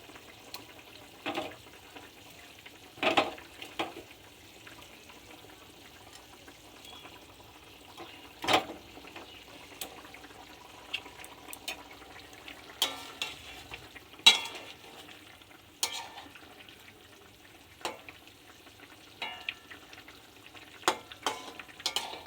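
Bhola fish cooks in a pan for a fish curry with a faint, low sizzle, broken by scattered clicks and knocks of a utensil.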